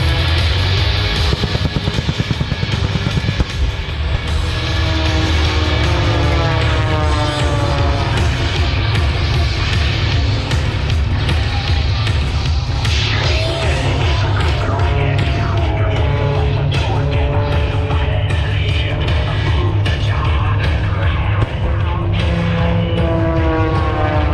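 An aerobatic stunt plane's propeller engine roars continuously and loudly at the Sun 'n Fun air show, its pitch rising and falling as it maneuvers overhead, with no voices.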